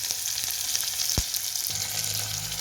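Onion, green chilli, curry leaves and mint leaves roast in a pan for vangi bath, giving a steady close sizzle, with one sharp knock of the spatula or pan partway through and a low hum near the end.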